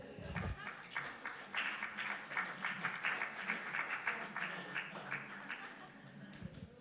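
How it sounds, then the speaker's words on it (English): Faint, distant applause from a church congregation for an assistant called up front, a soft patter of many hands clapping evenly for several seconds. "give him a big round of applause"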